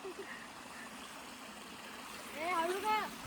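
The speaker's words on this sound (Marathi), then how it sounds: "बघा पाण्याचा लेक वाहता ओढा आहे" Steady running water from a small stream at Raigad Fort murmurs throughout, with a few bird-like chirps rising near the end.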